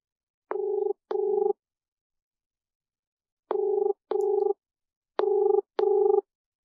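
Telephone keypad dialing tones for an outgoing phone call: six short, steady electronic beeps in three evenly spaced pairs with silent gaps between them, loud and clear with no voices.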